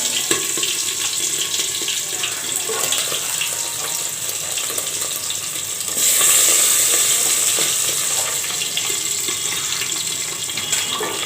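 Tangra fish sizzle in hot oil in a pan, a steady broadband frying hiss that swells louder and brighter partway through and stays loud, with no talking.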